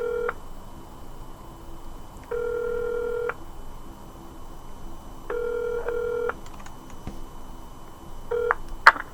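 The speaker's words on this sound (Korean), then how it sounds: "전화를 한번 연결해 보겠습니다" Touch-tone telephone keypad tones sound while a call is being placed, in three bursts of several steady dual tones, each lasting about a second, with a short final burst at the end and no talking over a quiet background hum.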